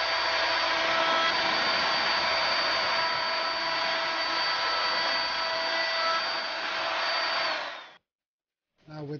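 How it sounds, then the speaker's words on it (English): A power tool, likely a router, cuts a chamfer along three sides of the top of a wooden shaker-style radiator cover, giving a loud, steady whine that holds for about eight seconds and then stops abruptly, with a brief restart at the end. "Now I'm just putting the chamfer around three sides of the top."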